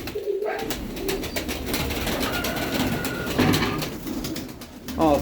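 Pigeons of the Mykolaiv breed coo softly amid a busy, noisy background, with faint voices nearby.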